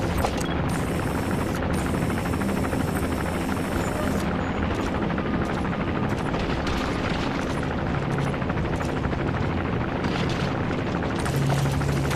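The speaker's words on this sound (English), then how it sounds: "Looks like the arms dealer's chopper is gonna patrol for the security forces." Helicopter patrolling over the area in Metal Gear Solid V: The Phantom Pain, a loud, dense rotor thrum and engine roar sustained throughout, with heavy low rumble and occasional booming swells.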